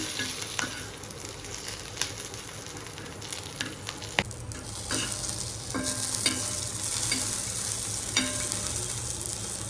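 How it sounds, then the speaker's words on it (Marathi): Garlic roasting in a pan for a spicy tomato and green chilli relish, a low steady sizzle with scattered clicks and scrapes of stirring, close and quiet, no talking. "आता हे लसूणला जरा भाजून घ्यायचं."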